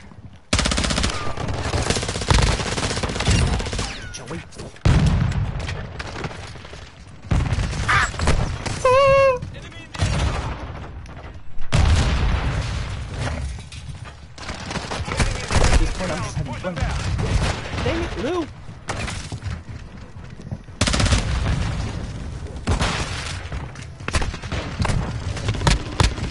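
Gunfire from Call of Duty Modern Warfare II on the Shipment map comes in rapid automatic bursts and single loud shots, repeating in dense, chaotic clusters across the whole stretch, with a player talking at times.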